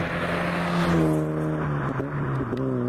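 Citroën ZX Volcane 2.0i car engine heard from inside while driving, a steady droning hum with rising harmonic tones as it accelerates, continuous and fairly loud throughout.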